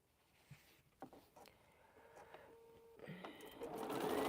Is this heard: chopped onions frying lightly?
no